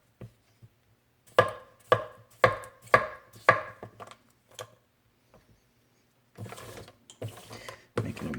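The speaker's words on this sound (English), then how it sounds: "So let's see if it'll even chop." A 210mm AEB-L XH gyuto chef's knife by CJA Edged Art chops through squash on a board. Five evenly spaced, crisp, close chops come first, then a few scattered taps and a quicker, denser burst of cuts at the end.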